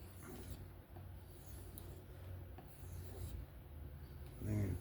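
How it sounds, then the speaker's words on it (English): Kizer Ti folding knife with a 154CM blade drawn across a bare strop, soft repeated rubbing strokes close and quiet, with a brief louder scrape near the end. "Now I can go to the strops. First one I'm going to use is the one with nothing."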